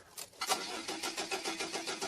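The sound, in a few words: Volvo 740 diesel engine cranking but failing to start, empty tank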